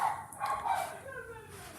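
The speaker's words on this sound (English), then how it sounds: "making the puppies bark." Puppies barking and yipping indoors, a few short, faint bursts over a couple of seconds mixed with a person talking nearby.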